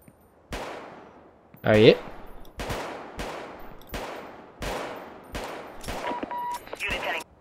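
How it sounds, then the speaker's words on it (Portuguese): Pistol gunshots in the video game Vicewave 1984: around eight sharp, loud reports with ringing decays, spaced roughly every second, while someone briefly shouts between shots. "Vou atirar nesse maluco aqui primeiro, vamos ver."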